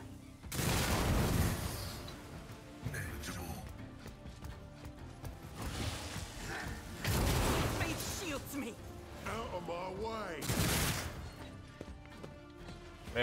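Gunfire bursts in the Warhammer 40K Rogue Trader video game, several loud volleys spaced a few seconds apart with game sounds and effects between them.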